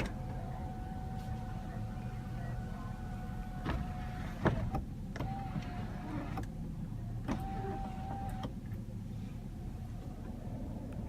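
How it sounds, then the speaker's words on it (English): The motor of a 2016 Chevrolet Tahoe LTZ moonroof whines softly in several separate runs as the roof opens or tilts up, with a few clicks and thumps between them inside the quiet cabin. "the moonroof can be open or tilt up"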